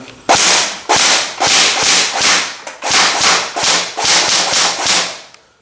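Sharp, loud single shots from a JG Steyr (JG0448A) airsoft rifle fired in a quick, fairly even series, each crack followed by a brief mechanical whir.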